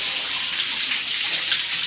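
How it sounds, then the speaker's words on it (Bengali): Steady rushing water from a pump runs and splashes as boys bathe under it on a hot summer day, a continuous close wash with no voices. "ছেলেগুলো এখন স্নান করছে।"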